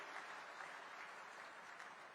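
Faint applause from a crowd at a political rally in Sirsa, Haryana, a continuous patter of many hands clapping at a distance, steady throughout.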